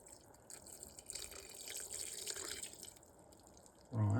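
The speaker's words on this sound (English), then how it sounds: "Now I'm going to add that water." About 300 ml of water poured into a jar packed with 1.2 kg of cabbage gives a soft, faint trickle and splash that ends in a sudden louder knock.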